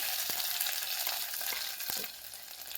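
Ground masala paste dropped into hot oil for patodi, frying with a steady broadband sizzle and a few soft stirring clicks, close and fairly quiet, without voices.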